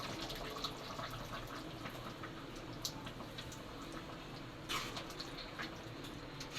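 Thick ground coconut paste pours and splashes steadily into a pot of goat intestine curry, a soft continuous wet gurgle with a couple of brief louder splashes, no talking.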